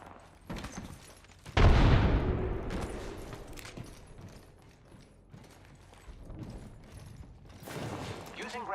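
A frag grenade thrown and exploding in a video game, one sudden loud blast that decays over a couple of seconds, followed by quieter clatter and mechanical game noises.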